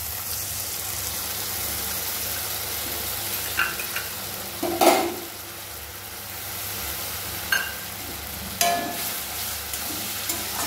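Spice paste with cumin and turmeric being sautéed in a pan for rohu fish curry, a soft continuous sizzle with a few sharper spatters and stirring clinks scattered through.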